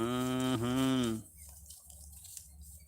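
A cow out grazing with goats and cattle in Madhya Pradesh gives one long, loud, close moo that dips in pitch briefly, followed by quiet outdoor background.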